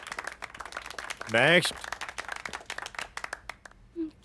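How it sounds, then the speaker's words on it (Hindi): A small audience claps after a singing performance, scattered crisp hand claps running through the scene while people talk over them. "तालियां हो जाए।"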